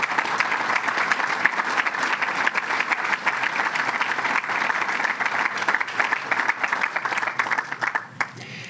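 A crowd at a fire department gathering applauds steadily, dense clapping sustained for several seconds before tapering off near the end.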